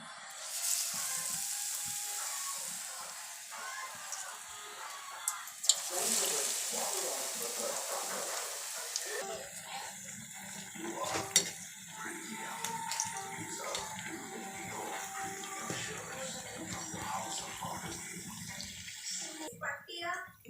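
Sliced potatoes dipped in batter fry in hot oil for potato bondas, a steady close sizzle and bubbling that carries on throughout while a person talks over it.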